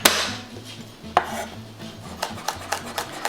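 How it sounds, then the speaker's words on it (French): A knife chops a garlic clove on a cutting board in a series of quick, close taps. A sharp first strike is followed by uneven, accelerating knocks, with no voices over them. "une petite gousse d'ail que je vais hacher rapidement."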